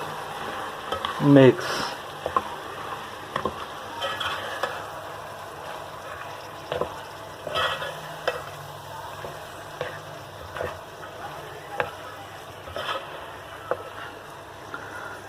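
Dal mash being stirred and fried in a pan, a soft continuous sizzle with irregular scraping strokes of a spoon throughout, one brief voice at the start.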